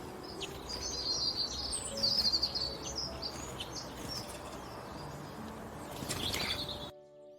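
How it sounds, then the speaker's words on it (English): Starlings give a mix of high chirps, cheeps, clicks and burring calls, several short overlapping bursts against a steady outdoor background hiss, fairly close and moderately loud. "Starlings are fantastic mimics and can make a huge variety of tweets, cheeps, clicks and burrs."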